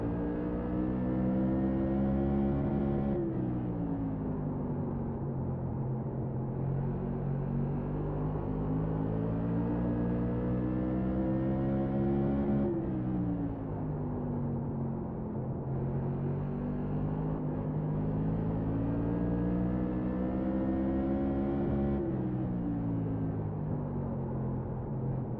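Modified race car engine droning continuously around the track during a late-race stage, a steady loud rumble rising and falling in pitch in long sweeps as the car circulates, with no voices.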